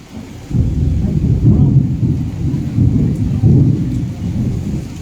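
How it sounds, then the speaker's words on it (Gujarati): Heavy rain pours during a storm in Morbi, Gujarat, with deep rolling thunder rumbling loudly in waves over a steady wash of rainfall, no talking. "અત્યારે હાલ વરસાદી ઝાપટું જોવા મળી રહ્યું છે"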